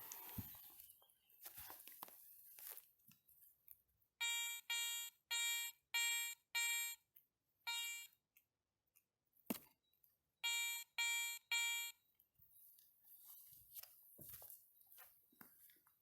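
Swept over a one-kopeck coin buried 20 cm deep in soil, a Garrett 400i metal detector gives two bursts of short, evenly spaced beeping tones separated by a pause, loud and close against quiet handling noise.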